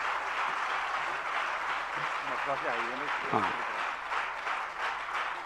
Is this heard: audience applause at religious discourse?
yes